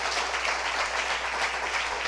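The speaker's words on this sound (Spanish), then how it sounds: "Dele un aplauso al Señor entonces" A church congregation applauding during a sermon, a short burst of steady, even clapping from many hands in a reverberant hall.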